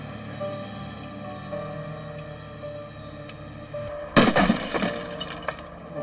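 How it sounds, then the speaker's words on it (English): A bomb-disposal robot's water cannon disruptor fires at window glass: after a quiet hum with faint ticks, a sudden loud burst of shattering glass erupts near the end, followed by about a second and a half of tinkling, falling shards. "The technicians then activated the robot's water cannon disruptor, which fires a slug by water pressure rather than gunpowder"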